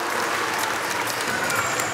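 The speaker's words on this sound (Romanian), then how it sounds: "Și aplauze pentru dumneavoastră." An audience applauds in a continuous, even burst of many hands clapping, fairly loud and unbroken, with no voices standing out.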